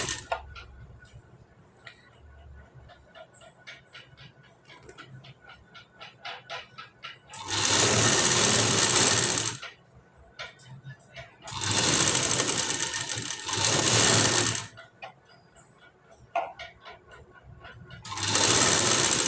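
Sewing machine stitching piping onto the neckline of a blouse, running in three long loud bursts separated by quieter pauses with small handling sounds.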